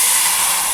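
Water poured into a hot pan of cumin powder for a Bengali fish curry (macher jhol) sizzles with a loud, steady hiss, no voices present.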